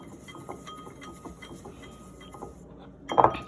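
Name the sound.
stirring scrub ingredients together in a bowl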